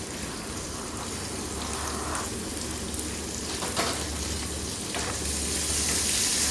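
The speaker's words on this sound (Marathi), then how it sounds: "आता लसूण कांदा आणि शिमला मिरची आपण परतून घेऊया" Garlic, onion and capsicum sautéing in a little oil, a soft steady sizzle with faint hiss and occasional scrapes, fairly quiet and continuous without talk.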